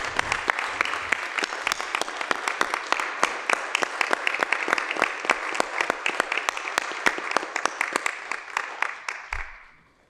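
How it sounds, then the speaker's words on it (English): A room at a county board of commissioners meeting breaks into a round of applause, many hands clapping in a sharp, steady, fairly close patter for about nine seconds before trailing off. "I wanted to take this opportunity, if you don't mind, to give y'all a round of applause"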